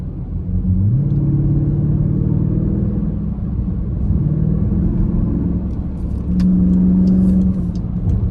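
Dodge Durango SRT engine pulling steadily while driving, a loud continuous low rumble with a rising tone early on and a brief surge of revving near the end, no talking over it.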